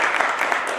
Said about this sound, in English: Let's give him all a round of applause.